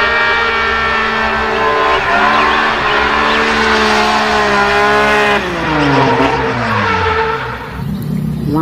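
A toy race car, mud-covered and being cleaned, gives a steady loud whining engine-like drone with rising and sliding tones, close and continuous, shifting pitch toward the end.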